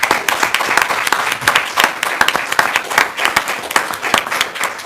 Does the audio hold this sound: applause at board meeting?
yes